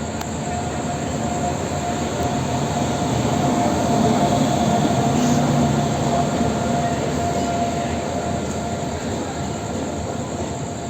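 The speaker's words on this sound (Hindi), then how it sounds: "और ये हम लोग का लोकोमोटिव था जो अभी डीकपल हो चुका है।" The Kaziranga Express standing at a station halt after its locomotive is uncoupled, a steady rumbling idle with a faint mechanical hum and no distinct clanks, continuous and close throughout.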